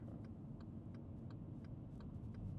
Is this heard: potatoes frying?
no